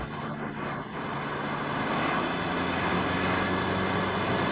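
An Audi car engine runs at raised revs in sport mode inside a garage, with a vacuum and tandem pump fault. It makes a steady, close, continuous drone with no talking.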